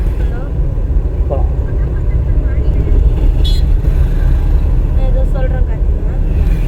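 A car driven by a learner during a driving class, its engine droning steadily as the accelerator is pressed, with an instructor's voice talking over it throughout.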